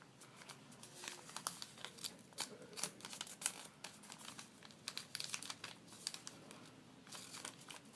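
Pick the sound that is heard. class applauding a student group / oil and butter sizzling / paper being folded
paper being folded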